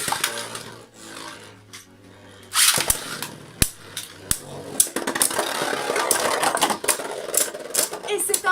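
Beyblade Burst spinning tops clash in a stadium battle, sharp clacking impacts and a sustained scraping whir, loud and close, under an excited voice commentating.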